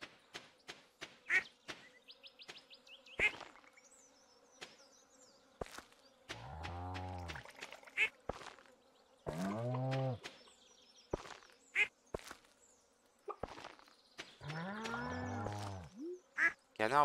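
Cartoonish duck quacks from the Stardew Valley farming game, several short nasal bursts repeated between game blips and buzzy effects, fairly clear and up front with no talk over them.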